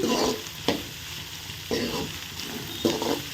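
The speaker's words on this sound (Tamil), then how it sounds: "இப்போ நல்லா வெங்காயம் வதங்குது நல்லா வெங்காயம் வதங்கட்டும்" Onions sauté in a pan for a meat curry (kari kuzhambu), crackling gently under three distinct stirring scrapes spaced about a second apart.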